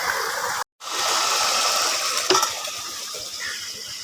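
Motor-driven pump pouring water into a farm field in a village, a steady close rushing gush of falling water with one brief dropout near the start and a small splash burst midway, loud and unbroken otherwise.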